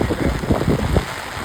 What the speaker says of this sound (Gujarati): ફૂલ વરસાદ પડે